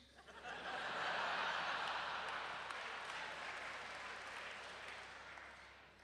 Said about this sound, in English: that entire applause and giggle has died down